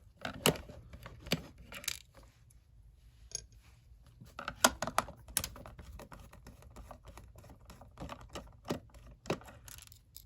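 Small screws being unscrewed by hand with a screwdriver from a Gemmy animated Rocky Balboa figure during repair, giving scattered light clicks and scraping ticks in quick bursts, close up and quiet, with no talking.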